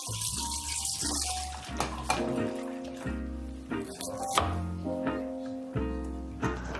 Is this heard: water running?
yes